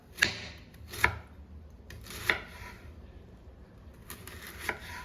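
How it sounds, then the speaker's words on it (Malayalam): A knife slices through cabbage lengthwise on a board, four distinct chopping thuds spaced about a second apart, close and fairly quiet with no speech. "ഇനി ഇത് നമ്മൾ അരിയുന്നതിനും ഒരു പരിവുണ്ട് അതായത് നമ്മൾ നീളത്തിൽ തന്നെ അരിഞ്ഞെടുക്കണം"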